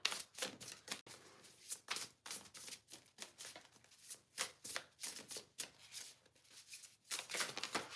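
A deck of cards is shuffled repeatedly, with a quick series of crisp, papery riffles and bursts of flicking at close range, soft and steady, with no talking.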